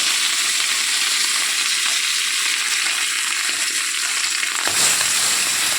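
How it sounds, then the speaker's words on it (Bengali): Fish frying in a kadai, a loud, steady, dense sizzle that hisses continuously, with a slight shift near the end as the pan is disturbed. "প্রথমে আমি মাছটাকে ভেজে নেব"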